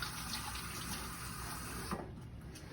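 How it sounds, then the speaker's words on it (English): Warm water runs steadily from a tap during handwashing, a continuous hissing flow that thins out near the end, with no voices. "Washing our hands at least for 20 seconds with warm water."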